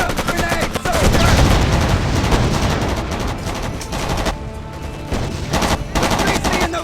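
Heavy, sustained gunfire from the PC shooter Made Man: dense bursts of automatic weapon fire with booming shots, loud and close throughout, dipping briefly before resuming.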